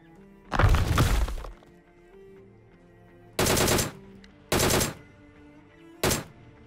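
Bursts of gunfire during a fight in the video game BGMI: one long loud volley, then three shorter automatic bursts spaced over several seconds, with quiet game ambience between them.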